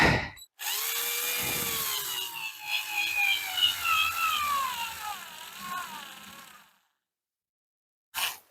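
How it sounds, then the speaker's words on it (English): A cordless screwdriver strains to drive a screw into boards, its motor whining and bogging down in a long, wavering pitch that sags, falters, then stops, with a brief final burst after a pause. "my fully charged screwdriver cannot get a screw through these boards"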